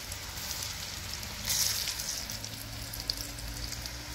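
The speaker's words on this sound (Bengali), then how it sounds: "বড়া ভাজতে দেখো" A soft, continuous sizzle of fritters frying in hot oil, crackling steadily and fairly quietly, with no voices.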